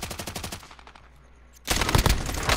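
Rapid bursts of automatic gunfire in Call of Duty: Modern Warfare, Rebirth Island: a fast rattling volley, a short quiet gap, then a louder, heavier burst of shots close by.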